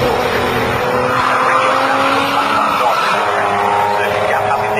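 Jaguar XJS and saloon race cars sweep past at a Donington night race, engines rising and falling loudly as they pass in close succession, with a commentator talking over the roar.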